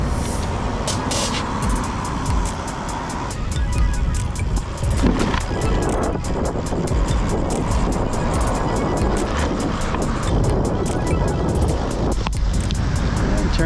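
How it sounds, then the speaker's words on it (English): Road traffic passes steadily beside a paved cycling trail, a continuous broadband roar of cars and trucks with wind rush and bike rattle, close and loud throughout, with no speech. "Now the road next to me has some traffic on it."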